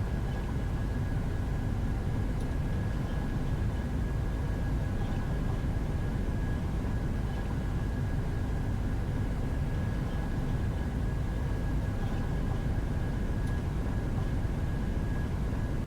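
Boeing 737-800 engines at takeoff thrust in the PMDG flight simulator game, a steady, loud broadband jet roar with a thin constant whine, unbroken and close throughout.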